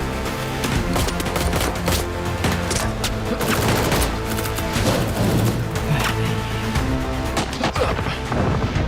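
Heavy gunfire erupts in a Hindi-dubbed Hollywood action movie, rapid overlapping bursts of automatic shots and sharp cracks in a dense, loud fusillade that continues steadily for nine seconds.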